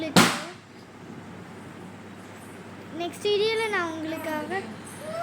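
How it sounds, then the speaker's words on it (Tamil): A sister's balloon gives a single sharp, loud pop at the start, then a voice talks after a quiet pause. "அது வந்து என் தங்கச்சி வச்சிருந்த பலூனோட சவுண்டு"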